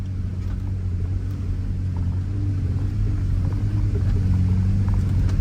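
A lifted off-road vehicle crawling a rocky trail gives a steady, heavy low engine rumble, close and continuous, with faint knocks and scrapes from the rough ground.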